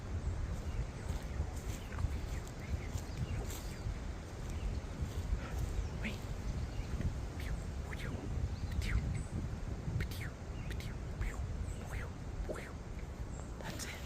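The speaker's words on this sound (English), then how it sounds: "Birds are singing in here." Birds sing outdoors along a wooded trail, with faint, scattered chirps over a steady, noisy outdoor background.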